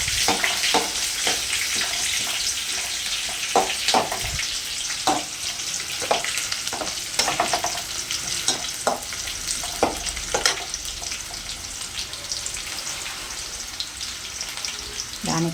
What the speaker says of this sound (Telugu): ఆనియన్ ఆనియన్ ఆనియన్ బాగా ఫ్రై ఉండాలి.